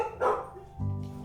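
Two short, close barks from a dog in the video game The Outer Worlds ring out over a low, humming game backdrop.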